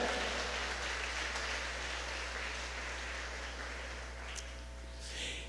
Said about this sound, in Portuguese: Pode aplaudir a Jesus de Nazaré.